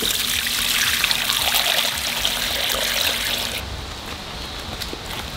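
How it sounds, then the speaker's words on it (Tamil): Water is poured onto plants outdoors in a garden, a continuous splashing stream, close by, then softens slightly toward the end. "தண்ணி எடுத்து அப்படியே செடிக்கு ஊற்றினா ரொம்ப ரொம்ப நல்லது."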